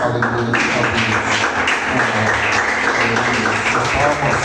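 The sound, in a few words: church congregation applauding for God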